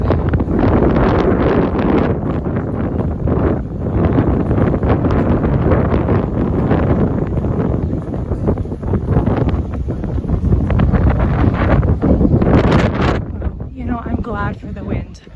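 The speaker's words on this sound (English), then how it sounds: "Ooh, windy." Strong wind buffets the microphone while walking around holy sites in Bethlehem, a loud continuous roaring rumble with gusts throughout, and people talk over it.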